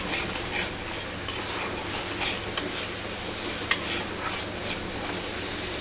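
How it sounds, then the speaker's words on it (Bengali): Shrimp curry with salt being stirred in a hot pan, a steady sizzle of frying under repeated scraping of a utensil, with a few sharp clinks against the metal. "লবণ দিয়ে দিচ্ছে, নেড়ে দিচ্ছে।"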